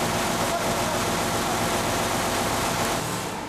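A Doosan diesel engine with a DGC 2007 electronic governor idles at its preset speed, giving a loud, steady, continuous drone with a low rumble that eases slightly at the end.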